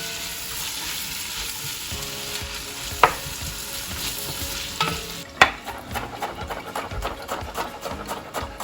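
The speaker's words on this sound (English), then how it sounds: "After my celery and onion have been cooking a few minutes" Celery and onions sizzling in a pot for clam chowder, a steady close frying hiss with scraping stirs and a few sharp clicks of the utensil against the pot.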